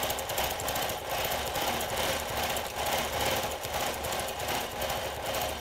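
A longarm quilting machine stitches back and forth across purple fabric, giving a steady, close, rapid mechanical chatter with a slight rhythmic pulse and no pauses or talking.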